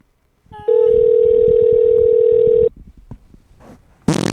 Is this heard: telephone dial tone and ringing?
yes